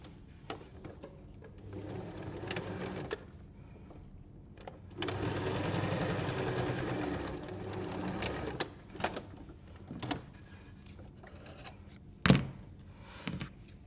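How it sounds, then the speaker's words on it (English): A sewing machine stitches two pieces of fabric right sides together for a cutlery pouch, running in short bursts then a longer steady run, with a few handling thumps and clicks; close, no talking. "I'm going to sew 2 pieces of fabric right sides together at the end"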